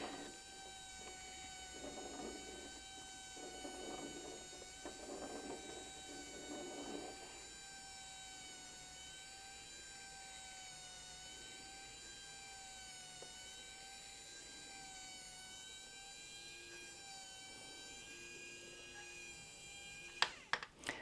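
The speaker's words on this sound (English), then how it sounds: "we just press run and you can see the binding feeding through beautifully, being folded and pressed as it comes through the machine" A Simplicity bias tape maker machine runs with a faint, steady whirring hum and high motor whine, folding and pressing fabric binding, with a few soft clicks at the end.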